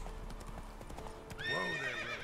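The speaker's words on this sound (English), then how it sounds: "Now move forward, you stupid horse." Horse hooves clop at a quick pace in the video game The Witcher 3, followed by a loud whinny from the horse near the end.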